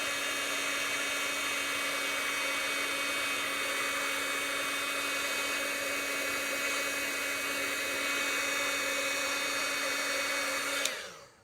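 A heat gun blows on a stamped card with a steady, close hiss and a constant high-pitched whine that runs unbroken for about eleven seconds, then cuts off abruptly.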